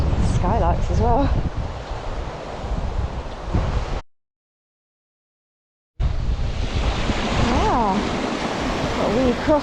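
Water rushing and flowing beside a tarn on a Lake District fell walk to High Street via The Knott, a loud, steady broadband wash with wind buffeting the microphone, broken by a brief dropout to silence.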